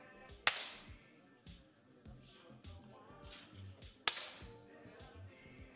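Two sharp, close cracks from 10m air pistols are fired a few seconds apart during a men's semifinal at a shooting competition, each a crisp snap over quiet room noise and faint clatter.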